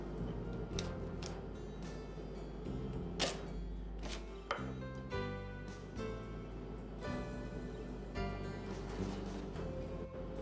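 A knife chops leek on a board in a quiet series of crisp, irregular strikes beneath soft background music.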